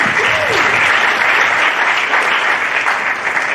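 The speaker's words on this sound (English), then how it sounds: "Give them a round of applause." A crowd at a science week event claps in loud, dense, sustained applause, with a brief voice audible near the start.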